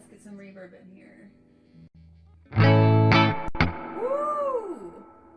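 An electric guitar played clean through a Fender Tone Master Deluxe Reverb amp rings out in a loud strummed chord and a few notes, then a bending, sliding note trails off with a reverb tail, preceded by a faint quiet stretch.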